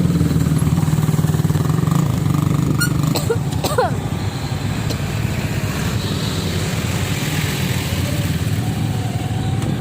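Motorbikes labor uphill on a road near Taal after its eruption, a loud, steady engine drone close by with a brief squeak, while people talk over it.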